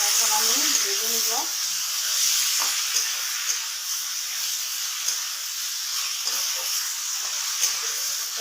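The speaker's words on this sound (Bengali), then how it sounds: "এখন আমি ভেজে নিব।" Spiced kakrol (spiny gourd) bhaji fries in a pan with a steady, close hiss and sizzle, briefly mixed with a short burst of voice at the start, then continuous crackling with occasional small pops.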